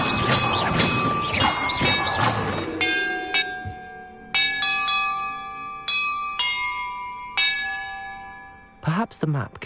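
Church bells ring inside the Hogwarts Legacy video game, a series of clear, loud, sustained strikes spaced roughly a second or two apart, each ringing out and decaying, after a brief burst of busier clattering at the start.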